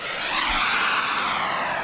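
A fast model jet flies past at around 160 miles an hour, giving a loud continuous high-pitched turbine whoosh that holds steady throughout with no talking.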